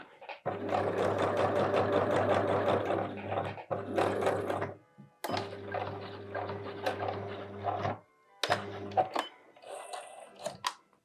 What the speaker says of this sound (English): I'm going to sew along the line here where all 3 layers are meeting each other.